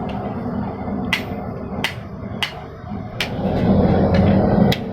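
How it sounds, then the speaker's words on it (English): Sharp metallic taps of a hammer striking copper, about eight irregular blows over a rumbling background, close and distinct. "with no experience hammering on copper, it's strange"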